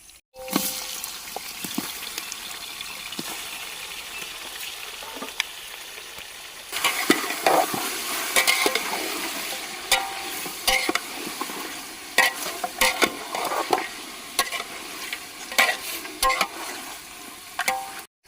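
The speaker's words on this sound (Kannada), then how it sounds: "ಇವಾಗ ನೀಟಾಗಿ ತೊಳ್ಕೊಂಡಿರೋ ಮಟನ್ ಹಾಕ್ತಾ ಇದ್ದೀನಿ" Washed mutton frying in a pot with onion and tomato for Mysore-style mutton pulao, with continuous sizzling that turns louder and busier midway as stirring begins, spatula scrapes and clinks recurring close by.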